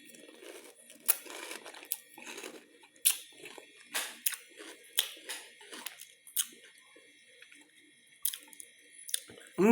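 A fish cracker dipped in spiced vinegar is crunched and chewed up close, a string of crisp bites and crackly chews at an irregular pace, with no talking over them.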